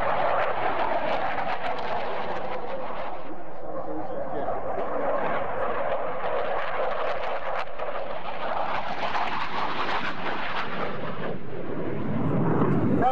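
An airplane flies at an airshow with a loud, continuous broadband roar that swells and shifts in pitch as it passes, with a voice faintly in the background.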